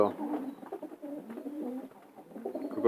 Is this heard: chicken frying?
no